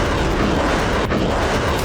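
Explosions from Russian strikes on Ukrainian military, industrial and energy sites: a loud, continuous rumbling roar of blasts with one sharp crack partway through and no talking.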